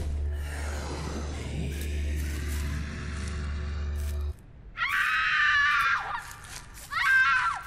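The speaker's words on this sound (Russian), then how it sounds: "Чё за крик?" Screams ring out in the horror video game Silent Breath, loud, harmonic bursts in two separate cries after a steady low droning hum that cuts off abruptly.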